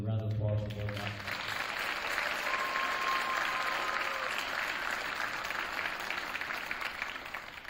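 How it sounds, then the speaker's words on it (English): An audience at a school winter awards ceremony applauds the boys basketball team, a dense, steady wash of clapping that carries on for several seconds with a voice over the start. "So please, a round of applause for boys basketball."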